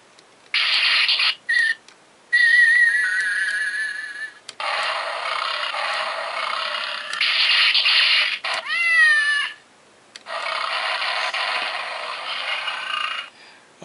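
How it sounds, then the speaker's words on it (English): A Gokaioh Red Lion toy plays electronic sound effects in loud bursts with mechanical clicks and whirs between them, including a tinny synthesized cat meow partway through, close-up and without talk. "He's doing savage roars and all of a sudden, meow."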